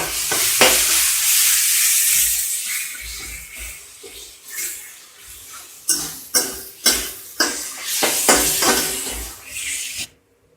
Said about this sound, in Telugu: మామిడికాయ వేసుకుని 1 నిమిషం కొంచెం ఫ్రై చేసుకోవాలి.